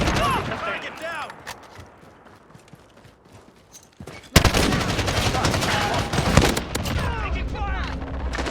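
Gunfire in the Call of Duty: Modern Warfare video game, starting as scattered shots under shouted voices, then bursting into a loud, sustained barrage of rapid automatic fire and explosions from about halfway through.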